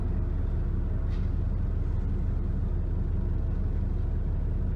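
Steady low engine drone and road rumble fill the cabin of a Dennis Trident double-decker bus on a Merry Hill route, heard from inside with a brief higher hiss partway through and no voices.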